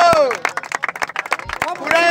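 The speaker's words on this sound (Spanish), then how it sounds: "¡Tiempo! ¡Aplauso!" Audience applause at a freestyle rap battle semifinal, a crowd clapping near and loud while a voice shouts over it, the claps tapping out in quick repeated bursts.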